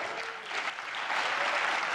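Audience applauding as a presenter walks onto the stage at the Launch Festival 2013, a broad even wash of clapping from a large crowd that holds steady and swells slightly toward the end, with no voices on top.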